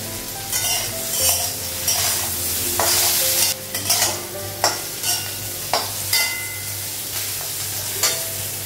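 Bitter gourd fries in a pan with a steady sizzle, while a utensil scrapes and clinks against the metal every second or so. Close and fairly loud, with no voices.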